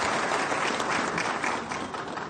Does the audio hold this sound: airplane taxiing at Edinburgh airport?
no